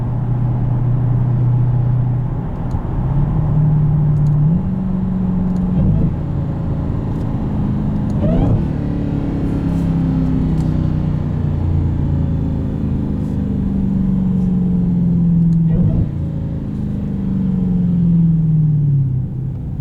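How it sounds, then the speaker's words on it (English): A 2022 Dodge Challenger Hellcat in track mode blips through aggressive downshifts, a loud, close engine rumble with repeated sharp revs rising and falling throughout, with no talk over it. "In track mode, these downshifts get very aggressive."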